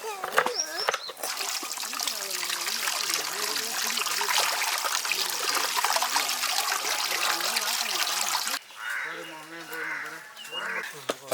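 Liquid trickles and pours steadily into a pot during village-style cooking of country chicken curry, a close watery stream running for several seconds while people talk over it, then stopping and leaving only voices.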